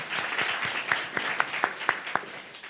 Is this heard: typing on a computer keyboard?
no